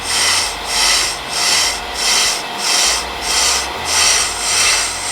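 A lathe resurfaces the rear brake drum of a 2011 Toyota Corolla. A loud continuous scraping rasp pulses rhythmically with each slow rotation over a low machine hum, close by with no talk.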